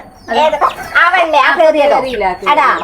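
Newly bought laying hens cluck loudly and close by at home in a steady run of rhythmic calls, with some bird-like voicing throughout.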